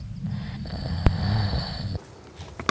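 A person snoring at night while camping in a bivouac by Lake Esparron, one long rumbling inhaled snore with a brief snort, fairly close, ending abruptly into quiet.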